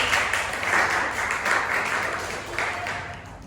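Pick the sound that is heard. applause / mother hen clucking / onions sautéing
applause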